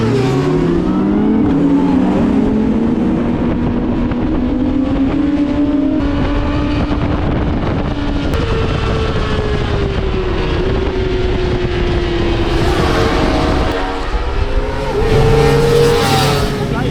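Race-prepared Kawasaki ZX-4RR motorcycles scream past at Donington Park, high-revving engines rising and falling as several bikes pass, loud and close throughout.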